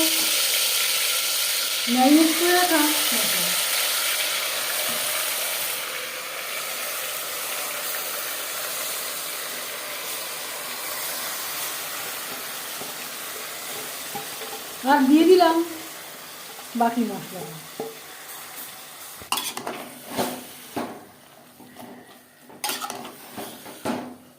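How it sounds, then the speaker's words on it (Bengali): Ingredients dropped into hot refined oil for mutton biryani, a loud sizzling hiss that gradually fades, with occasional clinks of a pot and utensil and brief bursts of speech later. "বেশ খানিকটা রিফাইন্ড অয়েল গরম করে নিয়েছি এবার দিয়ে দেবো"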